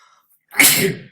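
A single loud, close sneeze after a moment of near silence, one sharp burst that trails off quickly.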